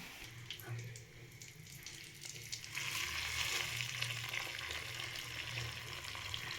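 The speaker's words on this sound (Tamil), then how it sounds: "நம்ம இப்போ தாளிச்சு ஊற்றியாச்சு" Hot tempering for chow chow keema kootu poured into the cooked dish, a soft sizzle and bubbling hiss that swells midway and keeps crackling steadily, fairly quiet and close with no talk.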